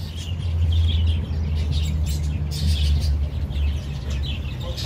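Birds in a pet shop chirp and tweet in quick, scattered calls over a loud low hum and shop background, with no clear talk.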